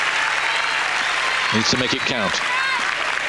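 A tennis crowd at the 2004 Amelia Island clay-court final applauds in a dense, steady wash of clapping that runs throughout, while a commentator talks over it.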